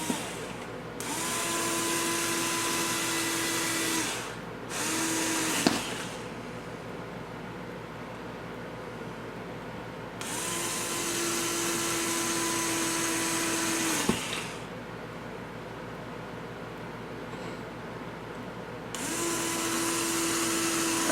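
A power drill drives 5/8 long screws during a QuadLugs 380 Sport build, sounding as several sustained whirring runs of a few seconds each, separated by brief pauses, close and steady, with no voices.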